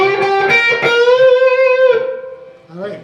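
The opening measure of a song on a distorted electric guitar: a few quick picked notes rising into a long bent, sustained note, then a softer closing note, played up close.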